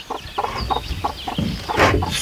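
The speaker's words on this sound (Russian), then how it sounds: "Приняла она 10 гродненских цыплят." Grodno breed chicks cluck and peep in a steady rhythmic series of short calls, close and fairly loud, with a busier burst of chirping near the end.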